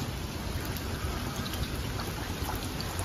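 Steady rain pours at seven in the morning in Japan, a dense even hiss of drops on surfaces with no breaks and no voices.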